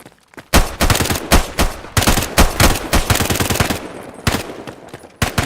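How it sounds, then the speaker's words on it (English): Rapid bursts of automatic SMG fire in a first-person shooter match, loud and close, rattling in several long strings with brief gaps between volleys and no talk over them. "Oh, no, I've done it. Auto SMG."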